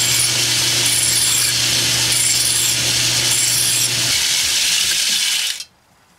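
Edge of a steam engine cylinder part being broken with a hand tool, a steady close abrasive rubbing and scraping that runs continuously for about five and a half seconds, then stops abruptly into near silence.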